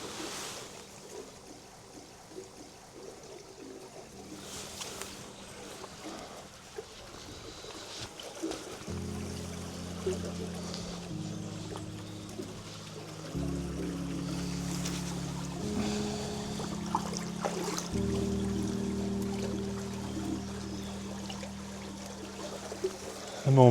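Steady water flowing and trickling at an old stone wash house in the woods, continuous and moderately close, with a low rumble under it and no talking.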